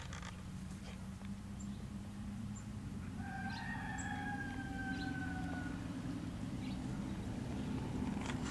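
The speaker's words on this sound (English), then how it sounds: "just spotted the chickens next door" Rooster crowing from a neighbouring yard on the first day of spring, a faint, drawn-out call rising over a steady low outdoor rumble, heard at a distance without any voices.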